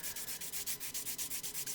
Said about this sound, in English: So I'm just doing a little bit of sanding at a time and test fitting